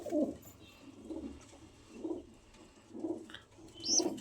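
Pigeons in a loft coo in a slow, regular series of low soft calls about once a second, with a faint chirp near the end and quiet room noise between calls.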